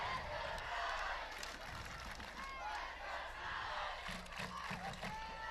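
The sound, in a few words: football game crowd cheering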